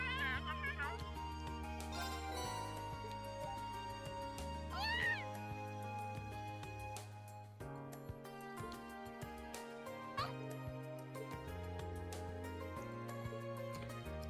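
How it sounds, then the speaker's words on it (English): A cat meows in the Trails of Cold Steel video game, a few short mewing calls heard over steady game music with melodic tones throughout. "Gotta make sure to feed that cat."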